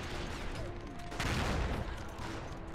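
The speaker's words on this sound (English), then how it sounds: "I don't know what got into my artillery" Dense, continuous rumble of artillery and gunfire from a World War I strategy game, a steady barrage with a brief louder swell midway and no speech.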